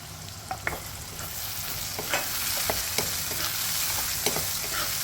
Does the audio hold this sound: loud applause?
no